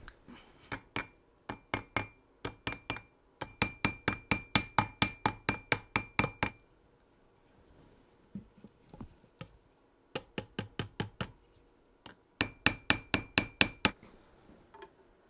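Bursts of sharp metallic hammer strikes set rivets on a tape-covered anvil while a wooden stone bow stock is fitted, fast rhythmic blows in several runs separated by short quiet gaps, close and loud, no talking.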